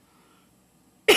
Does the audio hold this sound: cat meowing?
no